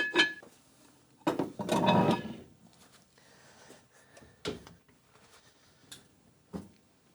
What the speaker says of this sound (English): I'm going to pop the lid on here and then get it into the lower oven